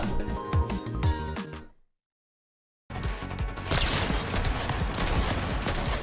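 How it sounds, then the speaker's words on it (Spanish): Rapid bursts of video game gunfire, dense volleys of shots. They cut to about a second of silence and then resume even louder and more continuous, with no voice over them. "Le da 50 tiros en la cabeza."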